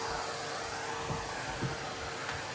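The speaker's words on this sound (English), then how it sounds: "I'm just going to do a quick speed vacuum in here." A vacuum cleaner runs in a quick pass over a house entrance room, a steady, fairly quiet whirring hum with a faint tonal whine and small bumps as it moves.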